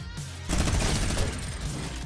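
Rapid gunfire in Fortnite bursts in as a dense, loud volley of shots after a brief quieter moment.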